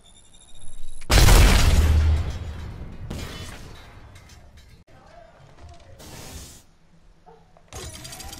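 An Arcstar grenade in Apex Legends is thrown and goes off with a loud, sharp burst followed by crackling electrical decay and several shorter bursts of gunfire and impacts.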